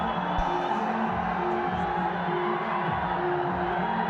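Loud crowd at a Nepal Premier League cricket match between Sudurpashchim Royals and Lumbini, a steady roar of cheering and whoops filling the ground throughout, with voices mixed into the noise.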